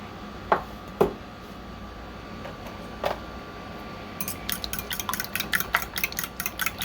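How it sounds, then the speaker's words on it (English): Eggs for a low-sodium quiche seasoned with Mrs. Dash and hot sauce are beaten in a bowl: a few sharp clinks of utensil on bowl, a pause, then a quick run of rhythmic whisking taps, fairly quiet and close. "We are going to beat this together. You don't want to over beat your eggs."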